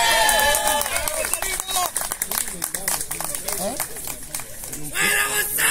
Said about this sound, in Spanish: Fuerte el aplauso para el señor Gonzalo Rodríguez.